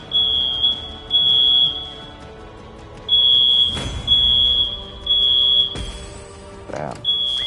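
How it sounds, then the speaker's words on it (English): A fire alarm beeps in repeated high, piercing bursts with short gaps between them, loud and near, while clicks and other game sounds play beneath it. "the fire alarm still going off is annoying as fuck"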